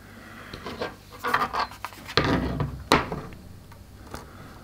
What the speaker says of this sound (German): und schrauben das Ganze hier einmal vorsichtig fest